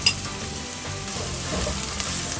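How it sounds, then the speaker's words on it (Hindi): Finely chopped onions frying in a pan for Bombay mutton curry, a dense, continuous sizzle heard up close and alone, with a faint stir now and then. "ये मैंने प्याज जो है चॉप किया हुआ बारीक 5 टेबल स्पून के करीब डाल दिया है। अब मैं इसे गोल्डन करूँगी।"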